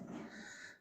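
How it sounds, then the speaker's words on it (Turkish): Dogs in a residential neighbourhood playground in Bozkır, Turkey, giving a short, close growling whine with breathy panting that fades out within a second. "Gördüğünüz gibi köpekler var."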